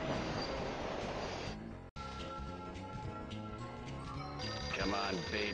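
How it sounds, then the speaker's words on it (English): Train sound effect from the Who Dunnit pinball table in Pinball Arcade, a dense, loud electronic clatter with a brief dropout, mixed with game music and callouts. "Ride the train."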